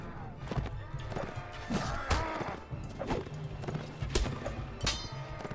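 Horse hooves clatter and thud in a Mount and Blade Warband battle, with repeated clip-clop beats mixed with impacts and combat clashes, moderately loud throughout and close to the listener.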